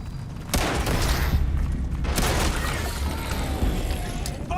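A grenade explodes in Starfield: a sharp, loud boom rings out, then a second burst follows amid continuous combat noise and rumble, with a voice faintly mixed in.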